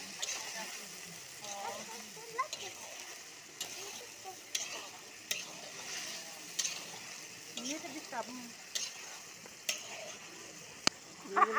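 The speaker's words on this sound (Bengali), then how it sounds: "কি মা আদা রসুন দিয়ে লাড়াচাড়া চলতেছে।" Ginger and garlic stirred and fried in a pan during home cooking, a steady low sizzle under repeated scraping and clinking stirs, with voices talking over it throughout.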